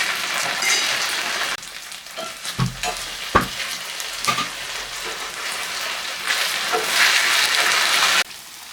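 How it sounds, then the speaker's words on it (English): Chicken pieces sear in a hot pan for kung pao chicken, a steady close sizzle broken by a few sharp clinks and stirring knocks, with no talking. "So we are going to sear them for 7 minutes"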